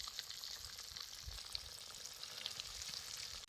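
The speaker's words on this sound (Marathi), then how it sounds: "बारीक जाळ घालूनच हे मास चळून घ्यायचं" Fish frying in a pan over a low flame makes a faint, even sizzle that hisses steadily throughout, with no voices.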